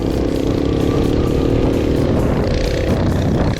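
A Delta 50cc moped engine runs steadily while being ridden, a loud, continuous buzzing drone with no pauses from start to finish.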